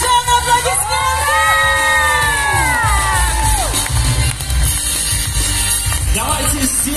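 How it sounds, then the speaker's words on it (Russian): A hall audience at a presentation ceremony for newly approved school directors in Azerbaijan bursts into loud cheering, whoops and shouting over steady clapping, sustained throughout with a few rising voices standing out. "Новые серебряные директора Азербайджана, аплодисменты!"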